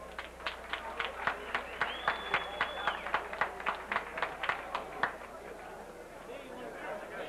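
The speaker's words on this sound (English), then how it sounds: "So if y'all would please join us in a big round of applause" An audience at a pro boxing event claps for the athletic commission staff, the claps coming in a steady, even rhythm before fading out near the end, with crowd murmur behind.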